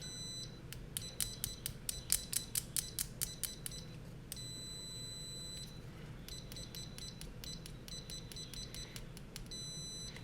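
Series of short electronic beeps from an Amprobe 1280 multimeter in continuity mode with Probe Master test probes, some in rapid bursts, others longer tones, repeating through the clip at moderate volume with no talking.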